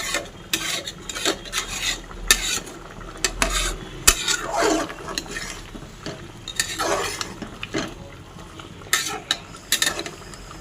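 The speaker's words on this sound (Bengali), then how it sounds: "নেড়ে দেবো।" Food being stirred in a cooking pan on a gas stove, heard as repeated scraping and clinking strokes of a utensil against the pan, close and fairly loud, with no talking.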